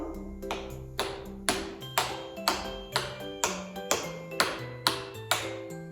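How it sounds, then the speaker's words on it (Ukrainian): A homemade wooden xylophone is struck in a steady rhythm, each bright tapped note ringing briefly, forming a simple melody played nearby. "Також виготовлений власноруч ось такий дуже гарний ксилофон."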